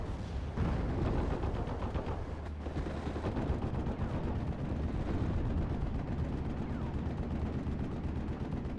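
FG-42 machine gun fire rattles in a strategy game battle, steady and dense gunfire over continuous rumbling combat noise, moderately loud with no one speaking.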